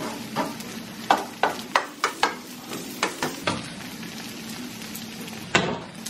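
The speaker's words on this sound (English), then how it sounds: "I love the smell of eggs frying." Eggs frying in a pan give a steady sizzling hiss with a string of sharp clicks and scrapes from stirring or utensil taps spaced through it, close up and with no talk.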